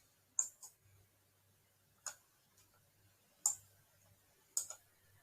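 A computer mouse clicks four times at uneven intervals, crisp and close, some clicks doubled, over a faint low hum in an otherwise quiet room.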